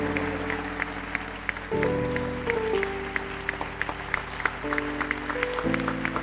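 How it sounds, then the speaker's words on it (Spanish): A church congregation claps during a worship service, a thin patter of hands heard over sustained organ or keyboard chords and faint voices. "Aplauda con fuerza al que vive."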